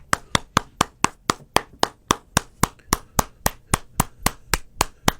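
A lone pair of hands claps slowly and steadily, about twenty sharp, evenly spaced claps, close and clear with no voices.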